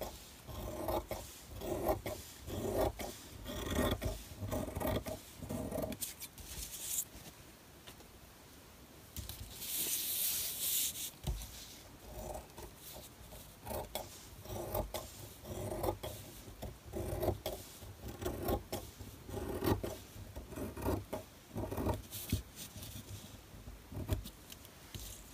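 Scissors cut through fabric for a journal dust jacket, making a steady series of close rasping snips and rubs with short pauses between strokes, with no talking.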